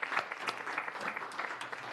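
Steady clapping from a small group in a committee hearing room, moderately loud and continuous for the full two seconds with no voices over it.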